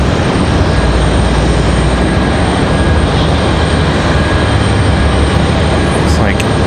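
An Airbus A220 on a Breeze Airways arrival from Albany at Raleigh Durham airport gives a loud, steady broadband roar that holds throughout, with a brief whining sweep near the end.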